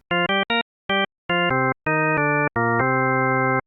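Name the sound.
synthesized organ from stacked harmonics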